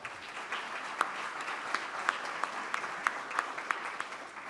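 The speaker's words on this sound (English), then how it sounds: "let's give, I guess, ourselves a round of applause" A seated audience gives itself a round of applause, a steady wash of clapping with a few sharper, louder claps standing out near the front.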